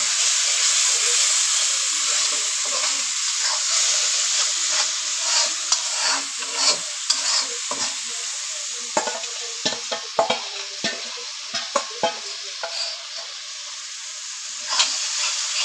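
Spice paste tipped into a hot pan for fish do-peyaza, giving a loud sharp sizzle and hiss that gradually settles into a softer bubbling fry, broken by stirring scrapes and spatters close by.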